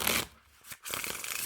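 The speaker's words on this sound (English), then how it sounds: "when I'm shuffling these up, they're definitely on the more thinner side" Silver Luxury Noc playing cards, thin stock, are riffle shuffled close up: a crisp flurry of flicking cards, a brief quieter pause, then another rapid riffle.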